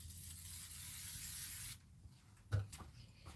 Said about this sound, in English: I'm going to give mine a little shot of spray because it's been sitting here and it appears to not be sticky at all.